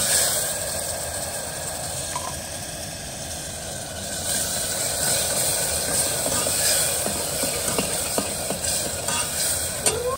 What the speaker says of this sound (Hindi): तो अभी देखो मसाला कितने अच्छे से भून रहा है।